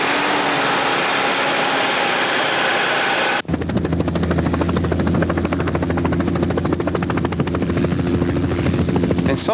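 A helicopter used to reach remote sections of a power line: after a few seconds of broad roaring noise, a loud, close, steady rotor chop with a fast pulsing beat and engine whine takes over and continues to the end.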